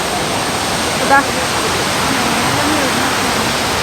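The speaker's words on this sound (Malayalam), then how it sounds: "തുഷാരഗിരി വെള്ളച്ചാട്ടം." Thusharagiri waterfall roars in a steady, loud, broadband rush close by, with a single brief spoken exclamation cutting in near the start.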